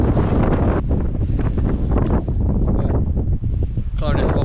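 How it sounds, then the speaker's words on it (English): Strong, sharp wind gusting over a rock in the mountains of Tasmania, loud buffeting roar against the microphone throughout, with a person speaking under the gusts. "And that wind is so sharp when it comes."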